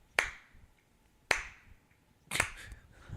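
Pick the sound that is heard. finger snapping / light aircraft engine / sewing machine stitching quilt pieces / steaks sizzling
finger snapping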